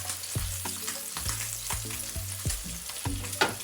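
Butter sizzles in a frying pan for a breakfast dish, giving a constant crackling hiss close by, with repeated scraping and stirring strokes of a utensil at a rough, irregular rhythm.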